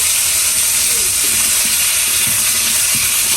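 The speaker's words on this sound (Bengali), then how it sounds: "আলুগুলো ভেজে একটু রান্না করবো।" Potatoes sizzle in a pan at home with a constant loud hiss, while faint scraping and stirring knocks come through underneath.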